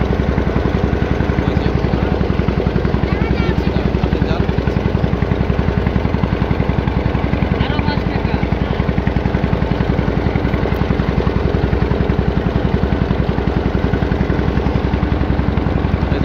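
A steady, droning motor boat engine runs continuously and loudly throughout on a river, with a constant low rumble and no pauses or talking.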